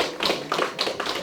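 Applause at the Diaspo Faso 2025 fair, a short burst of hand claps arriving in quick uneven pulses, fairly close and loud, with no talking.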